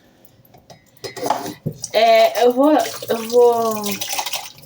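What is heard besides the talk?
washing dishes in kitchen sink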